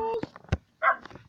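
A puppy in the video game Minecraft gives a few short, close yips and whimpers, mixed with a person talking.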